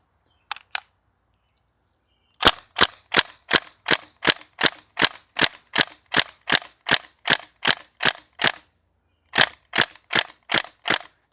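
A North East STEN airsoft gas blowback gun fires BBs: two quick shots, a pause, then a steady run of sharp, loud, close cracks at an even rhythm, a short gap, and a final burst of several more.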